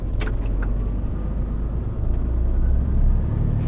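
Steady low engine rumble and road noise from a truck travelling on a road in Poland toward the border, continuous and close throughout, with no talking.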